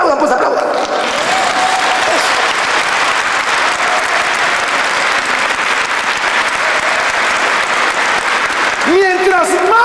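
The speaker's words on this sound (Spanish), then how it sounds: "Aplaudan, pues aplaudan." A church congregation applauds during a Spanish-language sermon, dense sustained clapping that fills the space for several seconds before a voice comes back in at the end.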